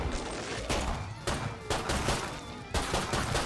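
Pistol gunfire in the zombie shooter Killing Floor, several sharp shots spaced about a second apart over a dense, noisy game background.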